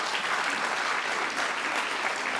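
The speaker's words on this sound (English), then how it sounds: "Can we have a round of applause" Dense audience applause at a prize ceremony honoring a scientist, a full hall clapping continuously and evenly throughout, loud and close with no talking over it.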